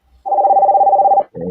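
A telephone gives a steady electronic ring tone for about a second, then a second burst begins, clear and close with no talking.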